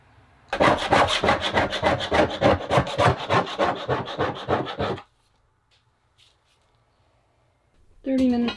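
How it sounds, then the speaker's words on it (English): Rhythmic, rasping scrapes of a tool stripping old glue from the interior of an Airstream trailer, loud and close for several seconds, then quiet before another burst at the end. "Minutes of scraping later,"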